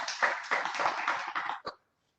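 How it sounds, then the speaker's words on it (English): An audience at a Union Budget 2021 indirect taxes discussion claps, a short burst of applause that stops abruptly after about a second and a half, followed by silence. "Big round of applause, ladies and gentlemen"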